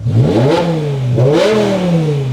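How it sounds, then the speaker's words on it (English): A 2006 BMW M5 V10 engine revs hard twice, its pitch climbing and falling in two loud, close surges with a raspy, high-strung snarl. "who doesn't want a V10 Lamborghini engine BMW with a monstrous sound"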